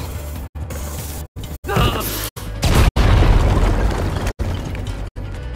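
Explosions in the video game Minecraft Story Mode, a series of loud, booming blasts with rumbling debris, broken by brief silent cuts, the largest bursts landing near the middle and sustaining a heavy roar.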